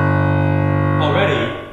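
A simulated piano modelled on an upright, with its strings made shorter, sustains a held chord that then breaks into a rapid flurry of bright, jangly notes before fading slightly; no one talks over it.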